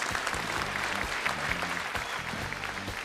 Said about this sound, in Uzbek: Bitta qarsak chalasizlar, davom etamiz.